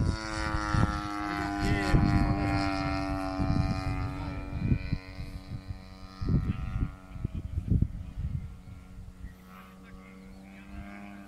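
A Pitts Special aerobatic biplane's engine at reduced throttle, a droning propeller hum with steady harmonic tones that gradually winds down, heard close with loud buffeting noise and someone talking over it.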